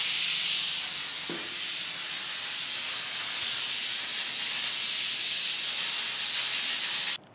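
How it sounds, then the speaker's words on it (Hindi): Steam rushes out of a pressure cooker cooking rice in a loud, steady hiss that keeps going for several seconds and then cuts off abruptly at the end. "फ्लेम को बंद कर दें और प्रेशर को निकाल दें,"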